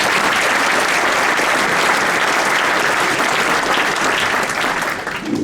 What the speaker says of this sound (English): So give Sister Nosheen another round of applause.